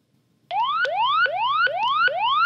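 A Quansheng handheld radio's alarm sounds abruptly, a loud, close electronic siren of rising whoops that repeat quickly and evenly, with no talking.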